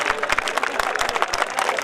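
Scattered audience applause at a kavi sammelan poetry recital in Bhinmal, a thin, patchy clapping that stays fairly quiet and uneven across the moment.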